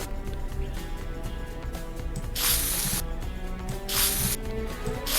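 In The Sims 4 build mode, the eraser tool plays a spray paint hiss: two short bursts, each about a second long, over a soft musical background, with no talking.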